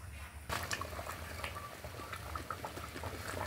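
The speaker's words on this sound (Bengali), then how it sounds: "এখন 15 থেকে 20 মিনিট আবারও আমি খুব ভালো করে ফুটিয়ে নেব।" Mutton curry gravy simmering in a clay pot, making a soft continuous bubbling with small pops and a faint low rumble, close by and quiet, without speech.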